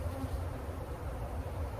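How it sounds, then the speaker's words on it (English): A dense, steady hum of thousands of honey bees buzzing all around at a backyard hive, continuous and close. "All them thousands that's there buzzing around my head"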